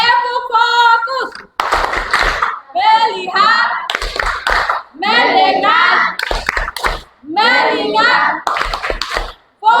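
A class of schoolchildren claps a rhythmic focus clap chant, sharp bursts of hand claps falling between loud sung and spoken chant phrases by young voices.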